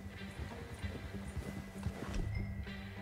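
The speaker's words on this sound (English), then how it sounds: "My horse is a good horse." Hooves of a horse clip-clop in the Red Dead Redemption 2 western video game, a quiet, uneven patter of hoofbeats under faint background sound.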